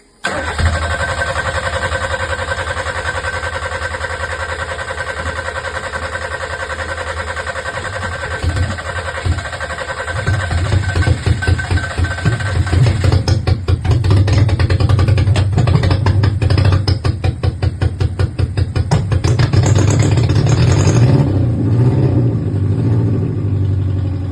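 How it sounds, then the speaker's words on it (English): A classic Mini fitted with a Nissan engine idles in a steady electrical hum, then cranks in rapid rhythmic pulses and catches into a rough, loud running note with revs near the end. "Right, ignition on, crank."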